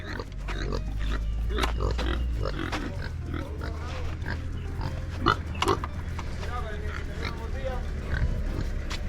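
Pig grunts and snorts come in short bursts over steady background noise, with people talking nearby throughout, on a farm in Cuba.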